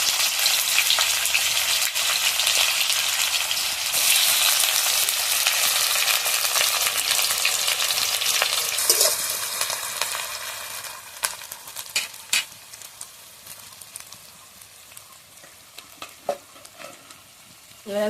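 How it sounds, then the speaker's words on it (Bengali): Chopped onions added to hot oil with whole garam masala and bay leaves, frying with a loud steady sizzle that gradually settles while a utensil stirs and scrapes the pan in intermittent clatters. "এবার আমি কুচিয়ে রাখা পেঁয়াজগুলো দিয়ে দেবো।"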